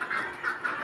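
Ducks quack at feeding time on a rooftop where ducks and chickens are kept, a few close, nasal calls overlapping in quick succession against a faint background.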